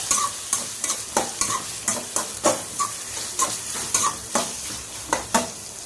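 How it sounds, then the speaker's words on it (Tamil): Tomatoes sauté with ginger and garlic in a pan under a constant close sizzle, while a spoon scrapes and taps in a steady rhythm about twice a second, with no talk. "தக்காளி நல்லா வதங்கட்டும்."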